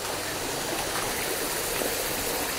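Steady rushing water of the Batya Batya waterfall in Siniloan, Laguna, a continuous broadband roar close by, with no voices over it.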